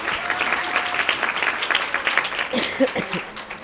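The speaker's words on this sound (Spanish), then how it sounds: "Así que un aplauso, muchas gracias." An audience applauds the Chilean Sign Language interpreters at an intersector talk, steady clapping throughout with some voices and a brief tone near the end.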